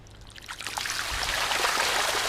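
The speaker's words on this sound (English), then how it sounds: "push on the side of the pool and allow all the water just to flow over the top" Water drains over the pushed-down side of an inflatable Bestway or Intex pool, building from scattered trickles into a steady, loud, close rushing pour.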